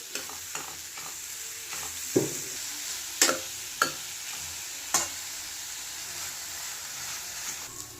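Sliced carrot and cabbage sauté in a hot pan with a soft, continuous sizzle, broken by a handful of sharp spatula knocks and scrapes as the vegetables are stirred.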